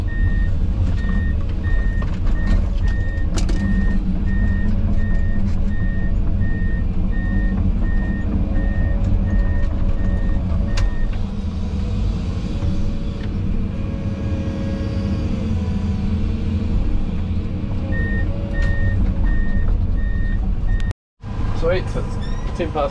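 A sand delivery truck reverses at a building site, its loud backup alarm beeping steadily at close range over a continuous engine rumble, with a brief dropout near the end.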